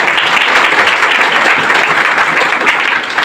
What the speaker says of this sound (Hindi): एक बार अपने लिए जोरदार ताली से।